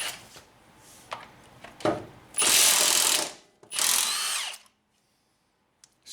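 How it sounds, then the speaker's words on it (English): A big Milwaukee 1/2-inch impact wrench with a Sunex 17mm impact socket hammering on a Honda crankshaft bolt: a few short bursts, then two long loud rattling runs before it stops, close and alone. "I'm using a Sunex 17mm impact socket and the big old Milwaukee 1/2" impact wrench"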